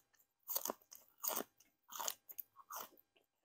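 Loud crunchy chewing of raw bitter greens with fish sauce, close rhythmic bites and crunches in about half a dozen bursts with short pauses, no talking.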